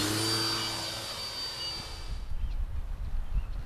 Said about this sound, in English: there's some mighty slow flying too from the Timber X today